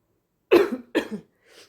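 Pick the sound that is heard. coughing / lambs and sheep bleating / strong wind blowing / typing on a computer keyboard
coughing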